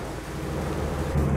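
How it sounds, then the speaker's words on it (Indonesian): Rain falling steadily with a broad, hissing wash, heard from inside a car on the road near Merak harbour, accompanied by low rumbling underneath. "Dan hujan."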